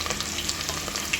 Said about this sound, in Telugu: ఉల్లిపాయలు వేస్తున్నా.